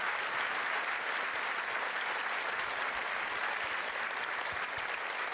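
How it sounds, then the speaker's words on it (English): A large audience at a local dance competition show applauds the backup dancers, a thick, continuous wash of clapping that stays loud and even throughout. "Give them some applause."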